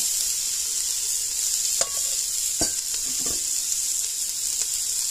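Blanched potatoes tumble into a pot of onions cooking for potato broccoli cheese soup, a few soft clunks and scrapes over a steady, gentle sizzle, close by with no talking.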